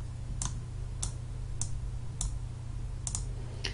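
A computer mouse clicks sharply about six times at uneven intervals over a faint steady hum, with no voice.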